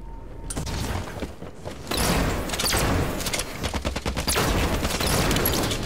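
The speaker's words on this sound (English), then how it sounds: "There's the shotgun kill." Dense Halo 5: Guardians combat gunfire on the Medusa map, rapid overlapping shots with heavy blasts from about two seconds in, loud and continuous, mixed with mechanical clatter and no speech.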